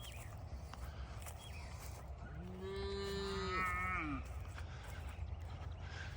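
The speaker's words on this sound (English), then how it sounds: "Bad little calves. I see little Butterbean is in here getting all upset" A calf or cow on a farm lets out a single drawn-out moo of about two seconds midway through, fairly close and clear over a steady background hiss.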